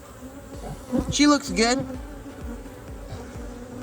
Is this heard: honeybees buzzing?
yes